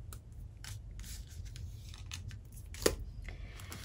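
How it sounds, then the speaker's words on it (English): A single quick scissor snip trimming thread while binding a journal made from an old book, one short sharp cut standing out against soft background rustling. "Trim that thread."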